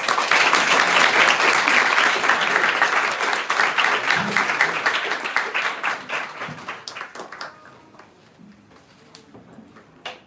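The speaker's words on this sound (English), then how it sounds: "Let's give him a big round of applause." Audience at a Bhagavata Sravana gathering applauding a guest speaker, dense clapping that thins into scattered individual claps and stops after about seven seconds, followed by a few stray claps and brief murmurs.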